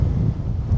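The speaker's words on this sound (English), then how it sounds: "You can see it is quite windy and choppy out there today" Wind blasts across the microphone beside a choppy sea on the Isle of Ulva, a loud, steady low roar with gusty buffeting and no voices.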